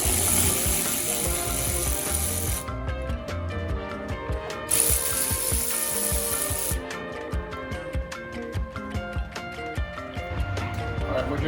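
A hand ratchet clicks in rapid repeated bursts while backing out 10mm screws on a Kia Stinger bumper cover, close-up and steady, with music running underneath.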